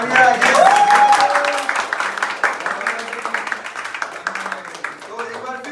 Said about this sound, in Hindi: once more तालियां।